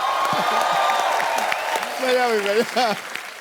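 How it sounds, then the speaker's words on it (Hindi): An audience claps briefly while people talk and laugh over it, the applause fading as the voices continue. "राजू भाई के लिए जोरदार तालियां।"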